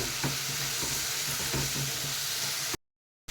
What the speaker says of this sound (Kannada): ಟೊಮ್ಯಾಟೊನು ಸ್ವಲ್ಪ ಫ್ರೈ ಆಗಲಿ